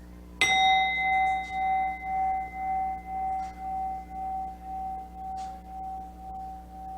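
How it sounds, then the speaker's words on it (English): A single struck chime rings out clearly, its bright tone sustaining and slowly fading over several seconds with a gentle pulsing shimmer, heard alone without speech. "So, first chime."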